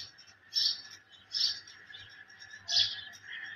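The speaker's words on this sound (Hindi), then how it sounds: "चिड़िया को आप चेक करें कैसे बोल रही" A small bird sings in a quiet village in the morning, giving three bright chirping phrases spaced about a second apart, faint and a little distant, with no talking.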